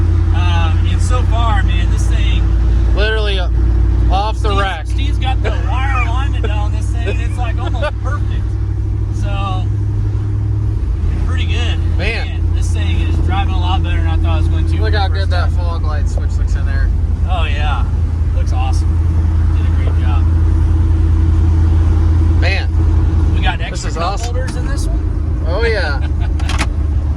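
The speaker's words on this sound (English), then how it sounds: "We're basically just driving the truck." A 1994 Silverado truck with a 1000 hp LT5 V8 swap and 10-speed gearbox drives along, its steady low engine drone and road rumble running throughout while people talk over it.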